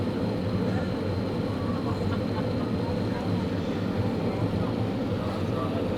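Inside the cabin of a Finnair Airbus A330 airliner on its landing approach to Doha, a loud, steady engine and airflow roar fills the whole stretch without breaks, with faint voices of people talking underneath.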